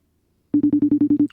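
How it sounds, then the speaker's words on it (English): A phone call's ringing tone plays in the earpiece as a quick series of about eight short, even electronic beeps, clear and alone after silence. "it's ringing in my ear here"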